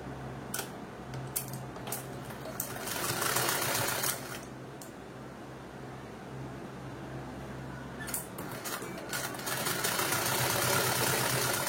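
A sewing machine stitches semi-patti pants, running in a steady, close mechanical whir with a low hum, stopping and restarting, with light clicks and handling noise around the pauses.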